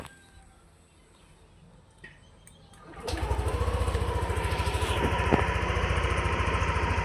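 Yamaha Aerox 155 scooter with a newly replaced fuel pump, quiet shop sounds and a faint click, then the engine catches and runs with a steady close puttering idle that rises slightly in pitch partway through.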